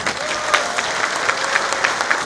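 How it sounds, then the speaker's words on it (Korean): A crowd at a Rotary district governor inauguration ceremony claps steadily, a brief burst of dense applause heard up close. "친구들께큰 박수 부탁드리겠습니다"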